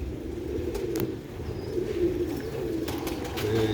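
Pigeons of a prized home-bred line cooing steadily at close range, a continuous low murmuring coo with a few faint higher chirps and rustles mixed in.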